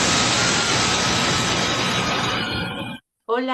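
A loud, steady motor whir like a blender running fills the clip, cutting out abruptly near the end before a brief voice starts.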